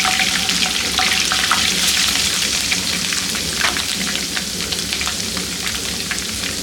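Green chillies and ginger garlic paste fry in a pan with a loud, dense, continuous sizzle and crackle, close by and unbroken, with no voices.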